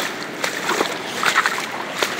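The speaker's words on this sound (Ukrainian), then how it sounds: "Я в воду впав по пояс." Water sloshes and splashes around a person who has fallen waist-deep into a shallow river on a fishing trek along the Southern Bug, with brief close splashes in the wading motion.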